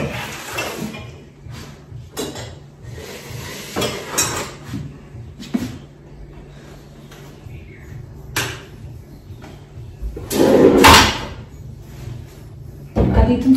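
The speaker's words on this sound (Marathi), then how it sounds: "चला आता हे कॅबिनेट क्लीन करून घेते" Cupboard doors and drawers of a kitchen cabinet being handled during cleaning, with repeated knocks, bumps and wiping rubs at close range, some louder clatters near the end, and someone talking between them.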